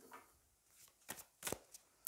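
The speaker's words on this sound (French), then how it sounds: "allez, on va prendre une carte du Magic of You" Cards from a Magic of You oracle deck being shuffled and drawn, a few quiet, separate riffling and slapping bursts against near silence, the last one sharp and close.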